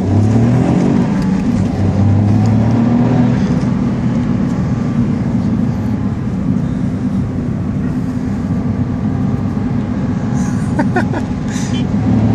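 A Smart 451 Brabus and a Toyota Starlet EP82 GT racing side by side, a loud sustained engine drone heard from inside one car, with steady tonal hum, rising revs and faint voices underneath.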